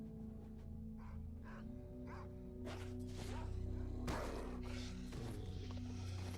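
Dogs barking and whimpering in the S.T.A.L.K.E.R. game world, a few short yips and barks over a steady game ambience with a low droning hum, with several louder bursts near the end.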